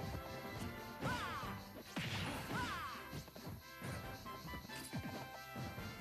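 Forward smash attacks in Super Smash Bros. Ultimate ring out as sharp, loud crashing hits, several in quick succession, with whooshes and game effects between them and no voices.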